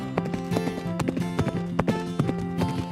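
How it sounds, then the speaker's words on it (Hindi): Horse hooves clip-clopping in a fast galloping rhythm, repeated sharp beats close up, set against a musical background in a narrated Urdu story, with no voice over these hoofbeats. "बाबू हिनहिनाया, एक जस्त लगाई और सरपट भागने लगा।"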